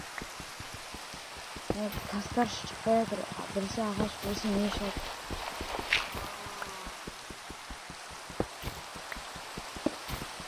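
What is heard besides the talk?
rain in a video game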